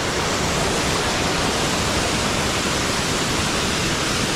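Rampa waterfall in Andhra Pradesh roars steadily and loudly, a dense broadband rush of falling water that stays unbroken and close throughout.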